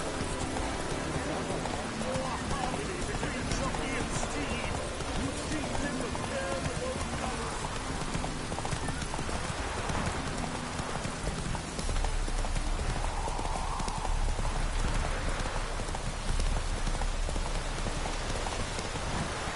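Hooves of Roach, a horse in The Witcher 3, clip-clopping at a steady gallop over falling rain, with game voices talking intermittently over the continuous wet background.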